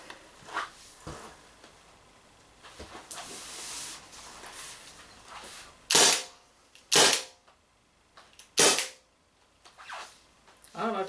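A Umarex HDR50 CO2 revolver fires steel balls while running low on CO2 gas: a few softer pops early on, then three loud, sharp, evenly spaced shots close by, with a last pop at the end.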